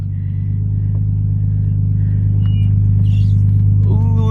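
A lowered Nissan R33 Skyline runs with a steady, close, deep engine rumble, with a slight rise in revs right at the end as it begins to drive off.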